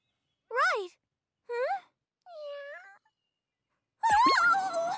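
A cartoon kitten meows in three short, clear, rising-and-falling cries, then a longer, louder wavering meow, each separated by brief silence.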